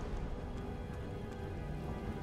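A rain spell in Divinity 2 falls as a steady, even hiss of rain on surfaces, continuous and moderately loud throughout.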